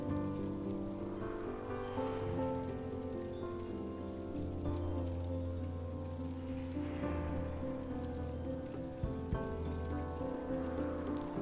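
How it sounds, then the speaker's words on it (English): Steady rain patters on a surface as an effect in a somber song, blending with sustained musical tones and a soft wind-like wash throughout. "I like that nice rain and wind effect too."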